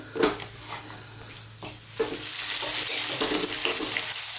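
Chicken pieces sautéing on low heat in a pan for Indian butter chicken, a steady soft sizzle with occasional stirring clanks and scrapes, growing a little louder toward the end.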